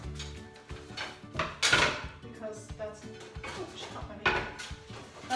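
Kitchen utensils and boards being placed into a top drawer during a kitchen drawer declutter, with a few clattering bursts of metal and wood among scattered handling sounds, close by and mixed with brief talk.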